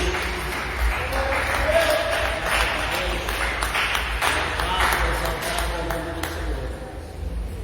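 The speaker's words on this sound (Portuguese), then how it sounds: "dê uma salva de palmas bem alegre para Jesus" A church congregation gives a cheerful round of clapping for Jesus, a steady moderate wash of hands with a low hum beneath and some voices mixed through it.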